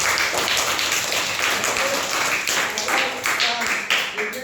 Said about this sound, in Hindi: चलिए ताली बजाइए।